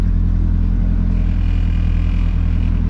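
A VW Gol Turbo engine runs with a steady, loud low rumble and a faint whine above it, holding close and even throughout without clear revving surges.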